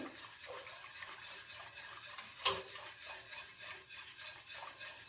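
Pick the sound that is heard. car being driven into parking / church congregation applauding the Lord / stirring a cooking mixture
stirring a cooking mixture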